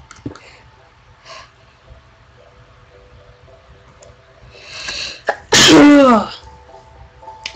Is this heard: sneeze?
yes